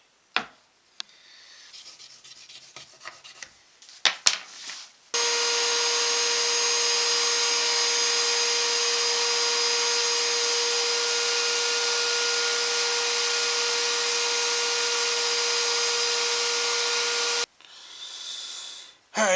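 Power tool cutting a 1/8-inch taper on a guitar neck blank with a taper jig: a few handling knocks and scrapes, then a loud, steady whining roar held for about twelve seconds that cuts off, followed by brief shuffling.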